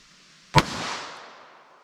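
A single sharp gunshot from a .38 Special revolver firing a standard-pressure lead semi-wadcutter round outdoors, a loud close crack followed by a short fading echo.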